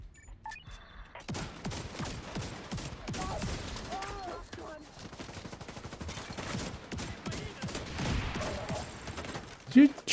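Gunfire in a PvE video game, a rapid fusillade of shots crackling through the first part and continuing under talk, with a sharp loud burst right at the end.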